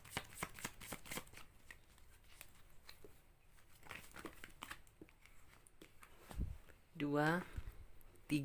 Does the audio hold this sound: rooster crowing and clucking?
no